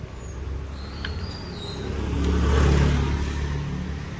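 A Porsche sports car on a road, its engine rising in a single rev that swells to a peak midway and then eases back, fairly close and alone with no talk.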